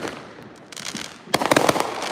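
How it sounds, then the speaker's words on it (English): New Year's Eve fireworks burst in a quick cluster of sharp crackling pops after a quieter opening, loud and fairly close, with no voices. "Look at them fireworks."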